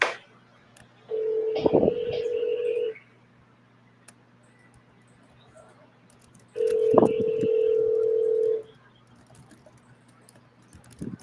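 Two long ringback tones of a phone call sound a few seconds apart over a faint steady line hum, each buzz lasting about two seconds with quiet gaps between.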